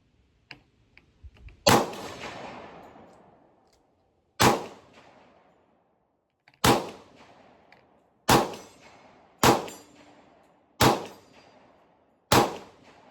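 A Kriss Vector 10mm fires single shots at an outdoor range, seven sharp loud reports spaced a second or two apart, each decaying with a brief ring as rounds strike a steel target.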